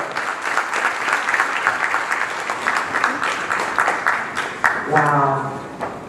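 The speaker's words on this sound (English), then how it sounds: "Let's give them a round of applause once more." Applause for panelists at a national food systems summit, a large audience clapping steadily and fairly close, with a voice speaking over it near the end.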